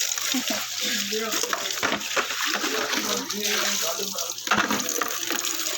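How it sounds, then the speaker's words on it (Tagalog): Shower water runs continuously in a home bathroom, a steady splashing hiss that lasts throughout while a person talks over it nearby. "Shower lang ako guys."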